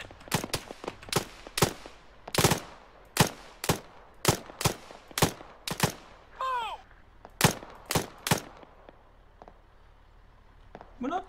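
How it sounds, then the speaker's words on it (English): Rapid gunfire in the military video game ARMA 3: a series of sharp, loud shots in irregular bursts, with a short whistling or ricochet-like sweep in the middle and a quiet tail at the end. "Am I just shooting? Okay, I'm shooting over there."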